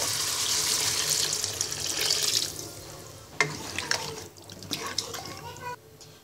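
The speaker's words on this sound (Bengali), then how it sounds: "এবার পরিমাণ মতো পানি দিয়ে মাংসটাকে রান্না করে নিব।" Water is poured into a pot of cooking chicken curry, a close rushing splash for the first couple of seconds, then quieter bubbling with a few clanks of utensils against the pot.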